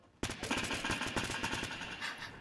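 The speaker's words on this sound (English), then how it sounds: "Somebody's trying to shoot it down!" Automatic gunfire in the Fortnite Battle Royale game breaks out suddenly as a loud, rapid burst of shots, then continues as dense sustained firing without a pause.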